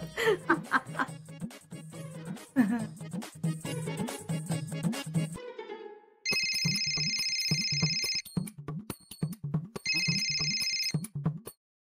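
A telephone rings during a call in a Marathi TV serial: two long electronic ring bursts sound clearly after a stretch of chatter and laughter, with faint voices continuing underneath.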